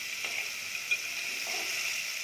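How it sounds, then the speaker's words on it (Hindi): Finely chopped onions frying over medium heat in a pan, a steady bright hiss of sizzling oil with a faint scrape or tap partway through. "प्याज जो है आपको बिल्कुल डल गोल्डन कलर तक फ्राई करनी है।"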